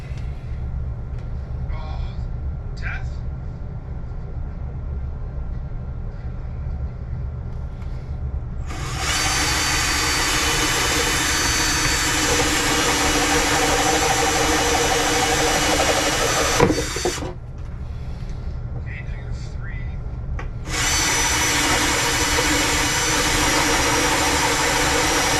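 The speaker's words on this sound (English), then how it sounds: "So we're gonna get the holes drilled." A power drill bores holes for DIY kayak lighting in a basement workshop, running loud and steady in two long bursts with a brief pause between, over low background hum.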